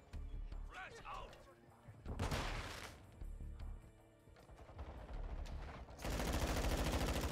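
Modern Warfare 2 gunfire crackles in several bursts between stretches of game chatter, ending in a loud, sustained barrage of shots.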